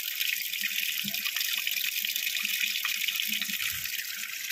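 Water gushing continuously from a borewell, a steady hissing rush of flow with no pauses, heard alone at an even level.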